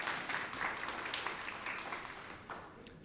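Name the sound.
audience applause for the pianist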